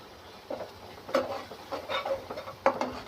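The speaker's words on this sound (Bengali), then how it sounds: "এই যে আমি হলুদ মরিচ ধনিয়ার গুঁড়ো সব দিয়ে দিয়েছি। এখন দিয়ে কষিয়ে নেব।" A spoon scrapes and stirs turmeric, chili and coriander powder frying in a pan, with a few distinct clinks and scrapes spread over a few seconds and a faint sizzle beneath.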